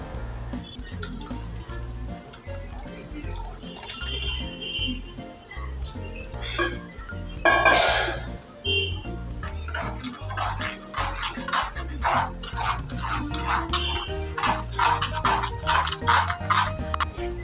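Blended watermelon juice with sugar is poured through a strainer, giving a run of close, wet drips and trickles with occasional clinks of a utensil against a vessel.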